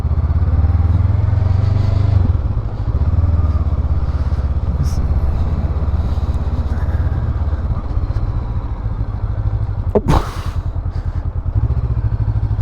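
A 2024 Honda SCL500 motorcycle rides slowly across a wet parking lot, its engine a steady low drone with a brief sharp noise near the end, and a voice talks over it.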